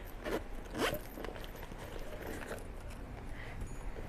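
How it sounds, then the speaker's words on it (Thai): The double zipper pulls of a cowhide leather wallet are handled, giving a couple of quick close rasping zip strokes and soft rustles against a faint background hum. "หางซิปของเขาจะเป็นงานหางซิปคู่ค่ะ"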